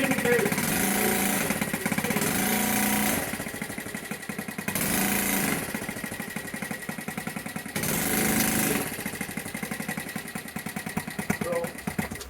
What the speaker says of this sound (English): And when we rev it, it's in gear.